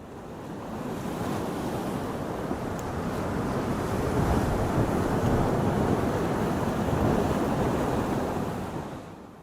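Mediterranean Sea waves break and wash on the shore in a steady, continuous roar, swelling slightly in the middle, with some wind noise on the microphone and no voices.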